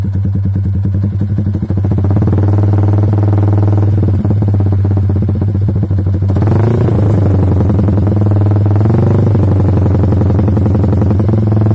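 Motorcycle fitted with a short 20 cm WRX GP6 Type K aftermarket silencer idling close up, a steady loud low burble with a slight blip partway through, no talking.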